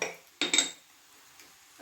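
A spatula scrapes and taps through clumps of cooked rice in a pan while making street-food-style fried rice, two or three short clattering strokes close by, then quiet.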